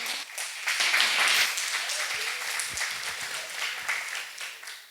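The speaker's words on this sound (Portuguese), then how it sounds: "Pode aplaudir a Jesus?" A church congregation applauding, a dense wash of clapping that swells early then holds steady, fairly close, with a few thumps underneath.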